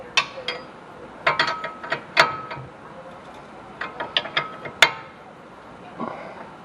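A hand ratchet clicks in short uneven bursts while snugging up the front axle hub nut on a Ford Taurus, crisp close ticks of the pawl separated by brief pauses.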